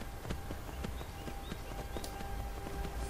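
Hooves of a horse in the video game Skyrim clip-clop in a steady, rhythmic trot over constant game ambience, sharp regular hoof strikes close by.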